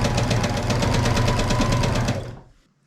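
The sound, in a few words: sewing machine chain piecing quilt strips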